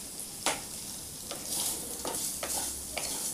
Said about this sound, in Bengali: আর পনিরটাও আমি হালকা করে এবার ভেজে নিচ্ছি